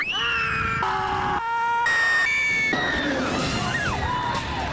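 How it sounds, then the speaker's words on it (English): Several voices scream loudly in sustained, overlapping high-pitched shrieks that rise and fall on a thrill ride, with a whooshing rumble underneath. "Screams are a great sign on thrill rides."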